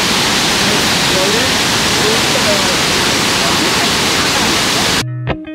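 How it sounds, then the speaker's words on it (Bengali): Dassam Falls in Jharkhand roars as a loud, dense, unbroken wash of falling water, steady for about five seconds before cutting off abruptly. "এটা হুদ্রু থেকেও আরো বড় ফলস, দশম ফলস।"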